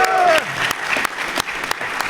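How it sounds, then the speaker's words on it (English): An audience at a live show in Celebration, Orlando applauds Dave, a short burst of clapping that follows a quick spoken line and fades out under scattered claps. "Round of applause for Dave."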